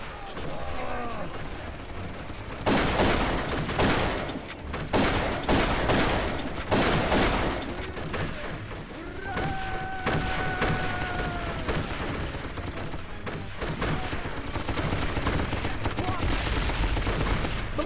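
Gunfire in the video game Darkest of Days: repeated bursts of rifle and machine-gun shots, some close and loud, others scattered, with a rising whine partway through and a continuous noisy battle backdrop.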